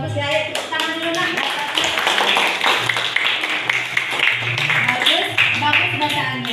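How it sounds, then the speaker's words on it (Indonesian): Children clapping their hands in an Islamic religious education classroom, a lively run of rhythmic claps lasting several seconds, with voices speaking over them. "Ayo tepuk tangan dulu nak."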